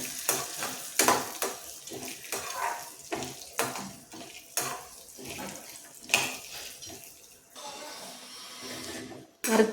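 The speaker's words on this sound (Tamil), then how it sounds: "பாதாமையும் முந்திரியும் சேர்த்துக்குவோம். ரொம்ப நேரம் வறுக்க வேணாம், ஒரு 3 நிமிஷம் வறுத்தா போதும்." Almonds and cashews roasting in ghee in a pan, a string of loud, close stirring and scraping strokes with a light sizzle between them, the rhythm pausing and resuming.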